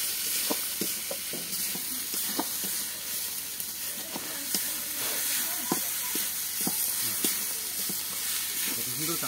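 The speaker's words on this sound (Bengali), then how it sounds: "হলুদ দিয়ে দিলাম। এবার এটাকে নাড়তে হবে।" Turmeric stirred in a frying pan over a steady hiss of sizzling oil, with regular light clinks and scrapes of a spoon, close by and even.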